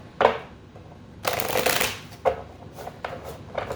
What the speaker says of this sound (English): We're going to cut the cards. Shuffle one last time.